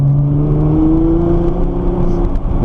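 A Nissan GT-R's engine drones steadily on a race track, a loud, sustained tone that rises slightly in pitch as the car holds speed, with no talking.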